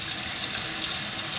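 Kitchen faucet running with good pressure, a steady close hiss of water pouring into the sink without a break.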